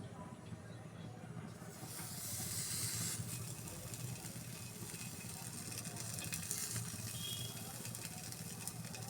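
Dried fish (shidol) sizzling on a hot tawa, a steady broadband hiss that brightens and swells slightly after the first couple of seconds and carries on evenly throughout, close and fairly quiet.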